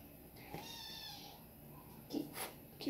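A cat meows a few times indoors, moderately close, with soft rising and falling cries, while a person nearby shifts around and speaks briefly.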